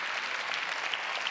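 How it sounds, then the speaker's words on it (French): Audience applause for young volunteers at a round-table event on addiction prevention, a steady dense wash of clapping heard alone throughout the short stretch. "Applaudir ces jeunes bénévoles qui s'entraident."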